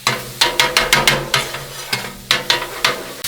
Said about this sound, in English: Immediately smell that delicious garlic simmering with the sausage.